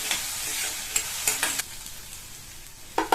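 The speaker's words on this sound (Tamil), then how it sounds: "இந்த வெங்காயத்தை நல்லா வதக்கிக்கணும்" Onions sauté in a pan with dried chillies and curry leaves for a kuzhambu, giving a soft, steady sizzle broken by a few quick spatula scrapes and stirs. No voices.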